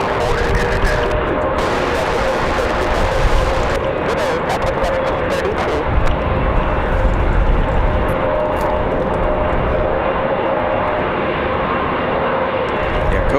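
A Copa Airlines jet landing at Raleigh-Durham in strong wind, its engine roar loud and continuous with a steady broadband rumble, gusty wind noise over it and a voice speaking in places.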